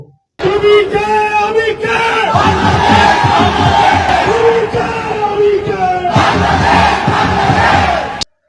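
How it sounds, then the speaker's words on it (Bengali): Student protesters in Pakistan chanting slogans as a loud, dense crowd, voices rising together in rhythmic shouted calls that fill the whole stretch, with a brief lull midway before the chanting surges again. "পাকিস্তানে দিচ্ছে আমিকে তুমিকে বাংলাদেশ বাংলাদেশ বলে স্লোগান দিচ্ছে"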